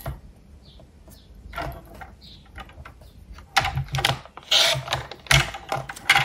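Paper card panels cut for a multi-panel fun fold card, close scratchy snips and rasping strokes, sparse at first then coming in denser clustered bursts.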